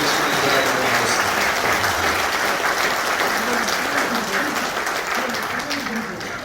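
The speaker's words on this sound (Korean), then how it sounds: "여러분, 큰 박수로 부탁드리겠습니다" An audience at a Korean independence movement association ceremony applauds as flowers are presented, with loud, continuous clapping from a large crowd and voices talking over it.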